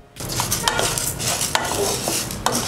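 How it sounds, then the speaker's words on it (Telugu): Toor dal dry-roasting in a pan over a low flame while being stirred continuously, steady close sizzling crackle with repeated scraping and clinks of the spoon against the pan, no voices. "కందిపప్పును వేయించేటప్పుడు కంటిన్యూస్గా కలుపుతూ ఉండండి"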